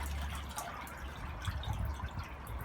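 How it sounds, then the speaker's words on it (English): Water drains away through cleared outdoor drains that were blocked by roots, heard as a quiet, continuous trickle with faint drips and a low gurgling rumble. "I think that shows that the drains are flowing okay"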